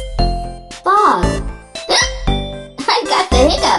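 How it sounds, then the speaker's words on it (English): A hiccup sounds in a children's phonics lesson, short sharp catches breaking up a speaking voice at close range. "I got the hiccups."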